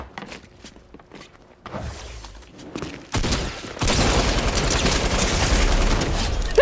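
Video game gunshots come in bursts of sharp cracks, sparse and quieter at first, then a loud sustained barrage of rapid fire over the last few seconds.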